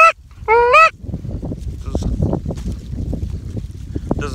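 Hunter's own voice imitating a Canada goose call during a goose hunt in a corn field, two loud nasal honks at the start followed by wind and rustling.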